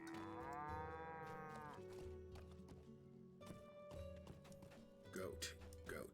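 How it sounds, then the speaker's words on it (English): A cow in the fantasy video game Lord of the Rings Online lets out a long, loud moo near the start, followed by softer game ambience and a lower drone. "Ah, here's the perturbed cow."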